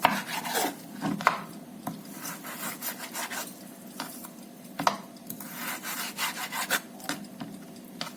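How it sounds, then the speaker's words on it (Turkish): A knife cuts raw beef into small pieces on a board, giving close, repeated rubbing and sawing strokes with a few sharper knocks, steady and moderately loud with no talk. "Öncelikle etimizi doğruyoruz."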